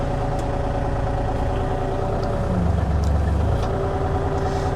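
A 2024 Bobcat E35 R2 mini excavator's engine idles low and steady without being revved, a close, even rumble with no talk.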